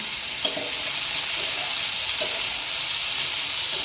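Ginger, cumin and chili paste with slit green chilies sizzles in a pan for a fig (dumur) curry. A loud, even frying hiss runs throughout, with a couple of soft stirring scrapes.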